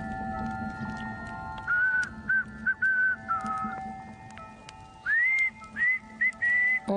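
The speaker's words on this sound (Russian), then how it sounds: "насвистывая свою заунывную песню" In a swamp horror film, someone whistles a slow, eerie, mournful tune in drawn-out sliding phrases with pauses between them, heard clearly over a quiet, low ambient hum.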